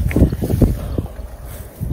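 Gusty wind buffets the microphone at a hilltop castle, Santa Magdalena de Polpís in Spain, giving a low rumbling roar in uneven bursts that ease off briefly near the end before swelling again.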